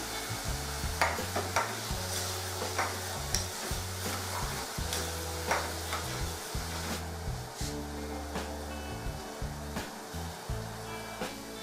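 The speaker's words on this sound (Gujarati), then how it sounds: "ડુંગળી સાંતળી લીધી છે" Onions sautéing in oil with salt in a pan for a Kathiyawadi baingan bharta, with a constant sizzle and periodic soft stirring scrapes, all over a low background hum.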